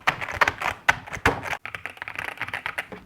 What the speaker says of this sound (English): Put the keys back on.